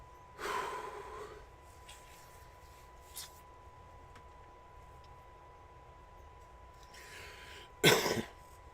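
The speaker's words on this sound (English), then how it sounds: "some real life coughing here" Someone coughs a couple of times in a quiet room: a muffled cough early on, then a sharper, louder one near the end, with breathy sounds between.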